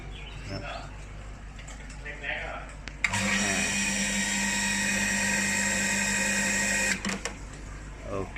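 A Hitachi water pump motor whirs steadily with a loud, high whine for several seconds, starting and stopping abruptly, with someone talking quietly before and after.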